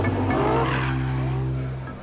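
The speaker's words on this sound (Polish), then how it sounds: "Zwiedzający mogli podziwiać niezwykłe wyczyny stanterów czy pokazy driftu." A car drifting at the Poznań Motor Show, its tires squealing in one long loud skid over the steady drone of the engine, close and continuous.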